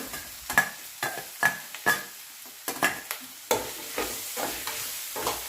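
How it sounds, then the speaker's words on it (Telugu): Raw mango pieces stirred in a frying pan for a mango curry, giving a run of sharp, close scraping strokes with faint sizzle between them, steady and uneven in rhythm, with no voices. "మామిడికాయ ముక్కలు కూడా వేసుకొని అంతా కలుపుకోవాలి"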